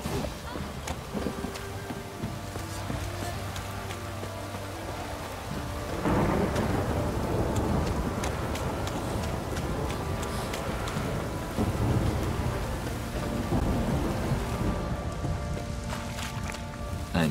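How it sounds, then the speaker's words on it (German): A storm in The Witcher 3 game world, with heavy rain hissing steadily throughout and thunder rolling in loudly about a third of the way through, then rumbling on under the downpour. No one speaks. "Ein Sturm, verdammt."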